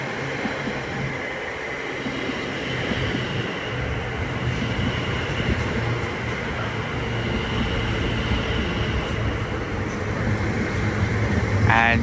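A Greater Anglia Class 720 electric train runs at Stratford with a steady rolling rumble and a faint motor whine, alongside muffled station ambience and a brief chiming tone near the end.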